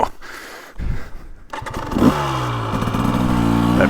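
A 2023 KTM 300XC two-stroke dirt bike lugs uphill in second gear. After a few clattering knocks, the engine settles into a low, grunting drone that is close and steady, with no voices.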